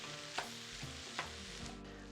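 Ground beef with diced onion sizzles steadily in a pan, a soft continuous frying hiss punctuated by a couple of brief scraping stirs as the meat is broken up, close and quiet with no voices.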